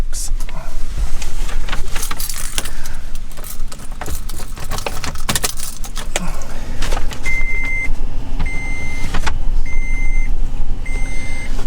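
A 2nd-generation Toyota Tacoma is handled up close: keys jangle and clicks sound, then the engine settles into a steady idle while a repeating chime beeps at regular intervals.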